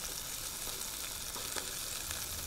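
Freshly caught fish frying in a pan outdoors, a continuous dense hissing sizzle, close and steady throughout the short stretch, with no voices.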